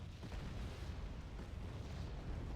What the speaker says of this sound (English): They're still bombarding the middle.